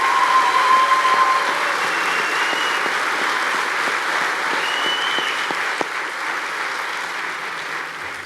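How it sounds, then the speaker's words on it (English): Audience applause at a fire academy graduation ceremony, a sustained wash of many hands clapping in a large room, loud at first and gradually fading over several seconds. "So give him a round of applause."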